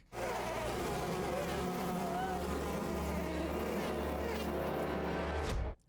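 Loud, dense buzzing of bees swarming close by, droning continuously before cutting off abruptly at the end.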